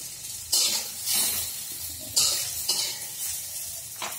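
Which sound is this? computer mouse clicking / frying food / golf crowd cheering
frying food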